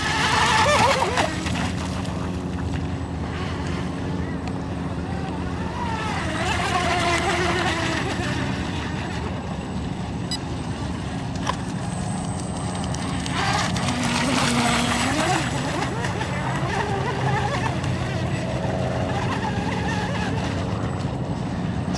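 Small hydroplane racing boats on choppy water, their engines droning and whining continuously at a distance, rising and falling as they pass, with wind and crowd noise around them.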